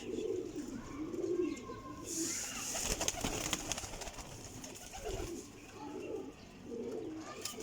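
A pigeon coos in a series of soft, low, rounded calls with short gaps between them, quiet and close, over light background noise and a brief rustle in the middle.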